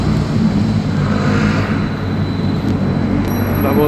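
A train rumbles past in a steady, loud low roar that holds for several seconds, with faint higher rail noise and occasional talk in the background.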